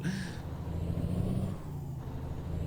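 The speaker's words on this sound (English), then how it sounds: "That was all the brakes this thing had." A truck's air brakes hiss briefly at the start under the low rumble of the engine in American Truck Simulator, the motor droning on steadily afterward.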